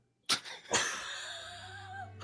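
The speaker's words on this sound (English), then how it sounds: "I'm sorry, did you sneeze?" Two quick sneezes in close succession, the second trailing into a breathy, fading sound in an otherwise quiet room.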